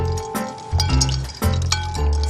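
Cooked noodles drained through a sieve, with water pouring and splashing steadily and close, plus a few light metallic clinks, for about two seconds.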